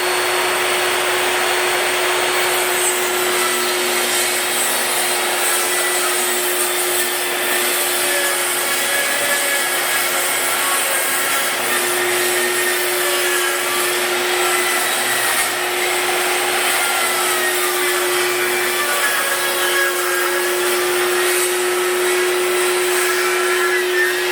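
A power saw rips wooden boards in a workshop, a loud, continuous whine with a steady tone and little change in level.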